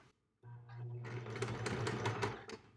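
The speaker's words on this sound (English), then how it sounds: "So now at the sewing machine, we're going to continue to stitch these together." A sewing machine stitches quilt block pieces together: after a brief silence the motor starts with a steady hum and clattering needle action, running continuously and close.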